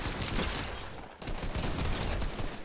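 Dense bursts of gunfire in the video game Fortnite crackle close and loud, rapid overlapping shots that briefly pause near the middle before resuming.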